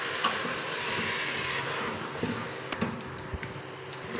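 Chicken curry with potatoes and a pinch of sugar stirred in a pan, a spoon scraping and knocking now and then over a low steady sizzle, with no voices.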